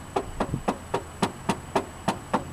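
Knocking on a car door panel lined with one layer of Dynamat Extreme, with the trim panel still off: ten evenly spaced, fairly hollow knocks in a steady rhythm, close and alone.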